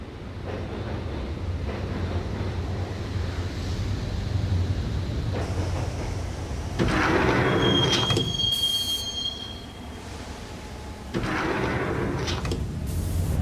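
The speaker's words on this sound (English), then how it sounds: "the train doors had already shut behind me, and I was in for the ride" Subway train rolling along the tracks in the video game Max Payne, a steady loud rumble with bursts of wheel screech and a high metallic squeal midway, no voices.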